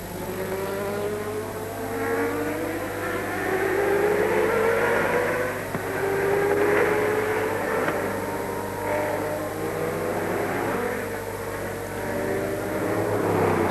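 Sauber Mercedes race cars lapping at Le Mans in 1991, engines whining past in rising and falling sweeps at a distance, a continuous layered roar of cars passing without talking.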